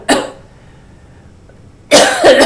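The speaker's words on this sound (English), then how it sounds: "Oh, those acid mites in my throat are making me cough." Two separate coughs from a nearby adult throat, a short harsh burst at the start and a longer, rougher one near the end, with quiet between them.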